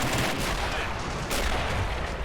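Rifle gunfire from an Army Men video game battle comes in dense, continuous bursts of loud shots with heavy low rumble. The volley stays intense for the whole stretch.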